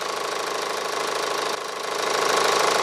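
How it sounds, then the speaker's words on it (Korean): A Kia Grand Carnival's engine idles with the bonnet open, heard up close as a steady, rapid ticking clatter over a mid-pitched hum, fairly loud and consistent. "엔진 소리 바로 한번 들려드릴게요."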